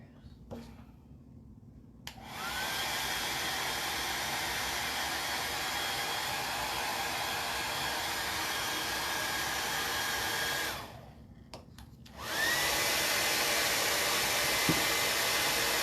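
A hair dryer blows on a wet piece from a reindeer and gnome craft kit, a loud steady whir that cuts out briefly near the end and then starts again.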